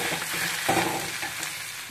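Boiled cauliflower leaves frying in a pan with garlic and chilli, a soft continuous sizzle with a brief louder stir partway through, fairly quiet and close.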